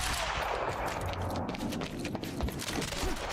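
A big gun fires in Quantum Break amid a firefight, delivering rapid repeated shots in a dense, loud, continuous volley with sharp cracks throughout.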